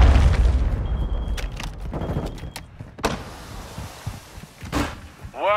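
Grenade and incoming cruise missile blasts during team deathmatch in a shooter video game: a loud deep boom at the start, then sharp bangs and thuds with a short tone, ending in a whirring mechanical sweep.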